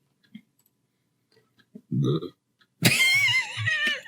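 A short, deep burp sounds close by after a few faint clicks, followed right away by a loud voiced outburst that may be laughter.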